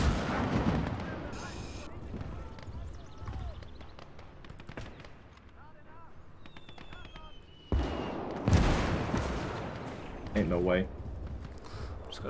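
Artillery shells from a Gates of Hell tank crew slam into buildings as sharp explosive bursts with debris and crackle at about 8 and 10 seconds, over continuous battlefield noise; a player talks under the fighting.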